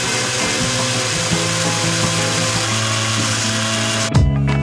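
An industrial saw in a log yard cuts timber logs into lengths, a loud steady machine drone with shifting pitched tones that stops sharply near the end with a final clunk.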